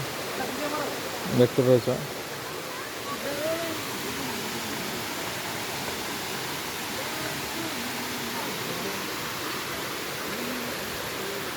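Mandasaru waterfall in Daringbadi, Odisha, pours down in a constant broadband rush that carries steadily from start to finish, with a short burst of a nearby voice near the beginning.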